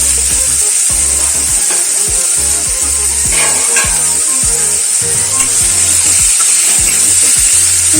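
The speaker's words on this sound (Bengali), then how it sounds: "মশলাটা রেডি কড়ার মধ্যে সর্ষের তেল দিলাম তেল গরম হলে কিছুটা পেঁয়াজ কুচি লাল করে রেখে নেব" Chopped onion frying in hot mustard oil in a wok gives a loud, dense, continuous sizzle, with scraping stirs and clatters breaking through it.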